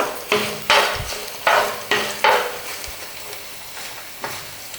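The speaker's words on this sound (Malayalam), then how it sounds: "വെളുത്തുള്ളി ഒന്ന് വഴണ്ട് വരുന്നവരെ നമുക്ക് ഇളക്കി കൊടുക്കാം" Garlic cloves sautéing in a pan for mango pickle, with roughly six rhythmic stirring strokes, each a loud scraping swish over a softer background sizzle, before the strokes thin out and turn quieter.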